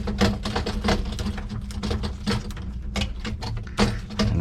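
Screws being loosened on the access panel of an AAON commercial water source heat pump, heard as quick repeated clicking and ratcheting taps, close and steady, with no talking.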